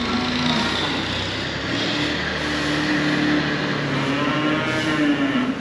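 Cattle moo in a shed, several long low calls rising and falling one after another over a steady engine hum nearby, with no talking.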